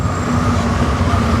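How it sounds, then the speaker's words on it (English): A train passes close by, a loud, steady rumble of rail cars with a continuous wheel drone and a faint high whine, heard alone without any talking. "Stupid train."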